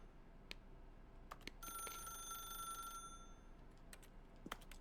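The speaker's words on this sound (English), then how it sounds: "then pick up the phone." In The Stanley Parable: Ultra Deluxe, a telephone rings once in a quiet room, a faint electronic trill lasting about a second amid low ambience and scattered clicks.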